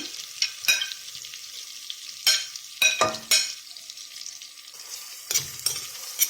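Carrots sautéing in melted butter in a pot over low heat, a soft sizzle punctuated by several sharp scraping stirs of a utensil against the pot, close and without talk.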